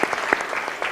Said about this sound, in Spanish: por favor, denle un gran aplauso a nuestros panelistas